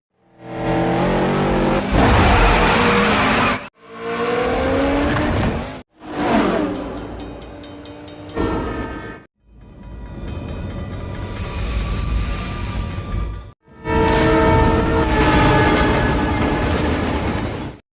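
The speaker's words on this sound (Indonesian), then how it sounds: "Kemudian mereka melakukan balapan untuk melewati lintasan kereta api." Cars race each other across railway tracks as a train passes in an action film scene: loud roaring engines and whooshing pass-bys in several cut segments, with rumbling train noise layered in and no talk.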